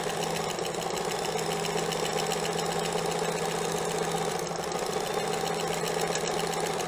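A Janome 634D sewing machine runs a continuous zigzag stitch while a side cutter trims the fabric edge, giving a steady close mechanical whir and rapid needle chatter with no talking.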